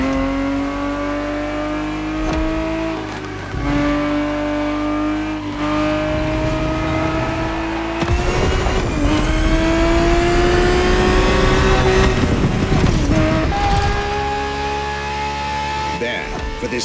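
A 1970s Ferrari 365 GTB4 in the racing game The Crew Motorfest revs loudly and continuously, its pitch climbing through gears with brief drops at shifts, with a voice talking over it.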